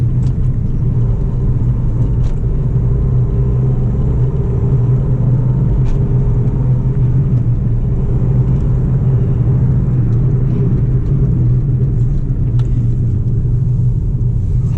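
A steady, low diesel engine drone from a Honda Amaze with road rumble runs throughout, close and continuous, as the car cruises along without any talking.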